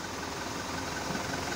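Mitsubishi Canter Euro 4 truck diesel engine on a test drive, a steady low rumble with broadband road noise, constant and fairly close, no voices.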